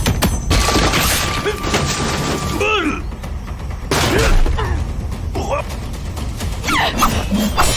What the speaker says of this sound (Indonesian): Pertarungan pun tak terhindarkan.